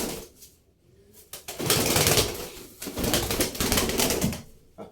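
Purebred pigeons flap their wings in loud, close bursts of fluttering, with a soft coo between the flurries.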